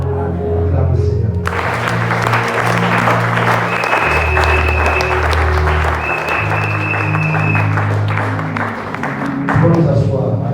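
A church congregation applauds during a worship service, sustained loud clapping from a crowd filling the space, with a voice speaking and music playing underneath.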